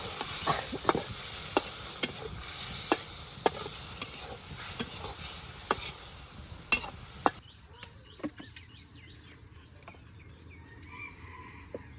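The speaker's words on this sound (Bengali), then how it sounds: "মাছটা খুব ভালোভাবে কষিয়ে নেই।" River fish curry stirred and fried in a pan in a village kitchen, with steady sizzling and repeated sharp scrapes and clinks of a spoon against the pan for several seconds before the frying quiets down.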